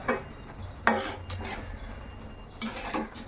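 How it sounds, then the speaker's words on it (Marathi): A spoon stirs sweet-sour amla chutney with jaggery and sugar in a pan, making close, uneven scraping and light clinking strokes against the metal, with no talking. "आता आपण थोड्या वेळ ह्याचा हलवून घेणार आहे साधारण दोन ते तीन मिनटं"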